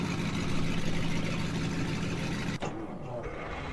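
A truck engine in Farming Simulator 17 drones steadily at idle, sounding more like a gas engine than a diesel, then cuts off abruptly near the end leaving a quieter, fading hum.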